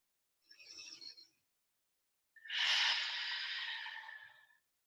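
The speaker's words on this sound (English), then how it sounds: "Inhale, arms and legs up. Exhale," Audible breaths during a yoga session: a short breath, then after a pause a longer, stronger exhale that fades out, close and alone.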